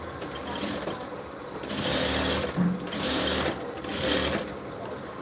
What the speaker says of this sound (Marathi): धार शिलाई करत असताना हा कापड असा पकडायचा